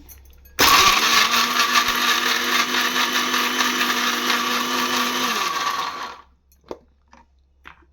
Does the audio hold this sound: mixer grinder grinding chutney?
yes